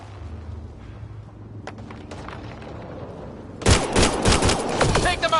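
Dense, rapid gunfire in the video game Mass Effect 3 bursts in loudly after a few seconds of low droning quiet, with overlapping shots and impacts crackling close by.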